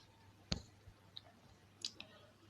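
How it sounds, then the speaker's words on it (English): A computer mouse clicking on an OK button gives a sharp, close click, followed by a few fainter clicks in a quiet room. "Then I'll click on OK."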